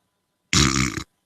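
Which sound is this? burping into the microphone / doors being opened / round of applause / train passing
burping into the microphone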